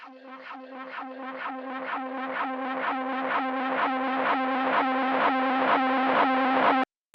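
A distorted, buzzy vocal-like effect pulses in a steady rhythm, gradually swelling louder before cutting off abruptly.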